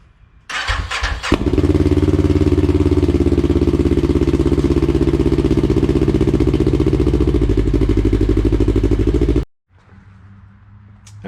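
A Segway Villain with a DIY exhaust and muffler starts up after a few cranking bursts, then holds a loud, steady rumbling idle with rapid popping pulses close by before cutting off abruptly.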